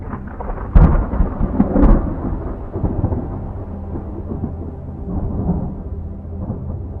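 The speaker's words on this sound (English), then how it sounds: "When the storm rages" Thunderstorm with two sharp, loud cracks of thunder early on that fade into a long rolling rumble, with steady rain hissing underneath throughout.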